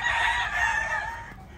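A Golden Monkey stud rooster crows once, a loud, close, drawn-out call filling the short moment with no speech.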